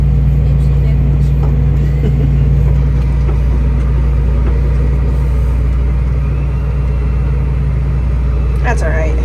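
A baler tractor driving across a field in the dark, its engine holding a steady, loud, low drone throughout with a constant hum, heard from the cab, while people talk over it.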